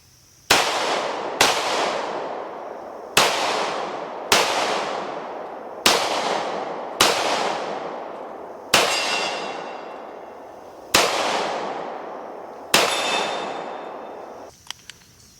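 Loud, sharp gunshots from a Smith & Wesson M&P 2.0 10mm pistol ring out at a range, nine evenly spaced single shots each followed by a long echoing decay, with a couple of faint clinks at the end.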